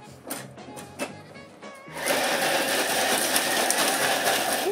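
A food mixer starts up after a couple of seconds of quiet kitchen clatter, then runs as a loud, steady whirring blend of ingredients to the end.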